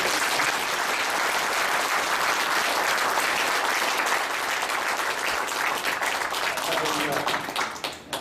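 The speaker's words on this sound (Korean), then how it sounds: "우리 온 성도님들을 향해서 한번 큰 박수로 축하하며 축사를" A church congregation bursts into loud, sustained applause during a thanksgiving service, dense clapping filling the room for several seconds before tapering off at the end.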